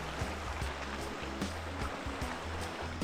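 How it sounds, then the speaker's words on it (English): Sea water laps and washes near a beach promenade below a fortress in Montenegro, a steady close rush with soft splashes and a low rumble. "So nice and peaceful down here by the water."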